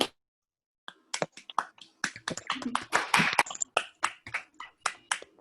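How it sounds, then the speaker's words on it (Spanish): Participants in an online book-launch meeting unmute and applaud, producing a burst of close, uneven hand claps that thickens into a brief crescendo and then thins into scattered individual claps. "le brindamos un aplauso de verdad"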